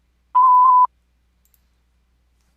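A single voicemail beep, a steady electronic tone lasting about half a second with a slight warble, sounds alone after silence, followed by quiet and a faint click at the end.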